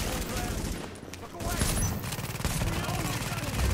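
Automated turret firing in The Division, a dense, rapid stream of gunfire running continuously and loud throughout, with other battle noise mixed in.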